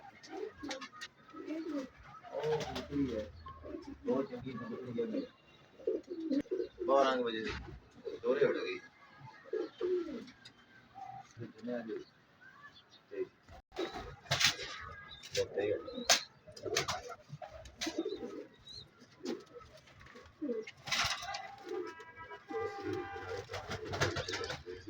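Top-class Salara pigeons coo in low repeated throaty bursts, close by, while someone talks over them almost throughout.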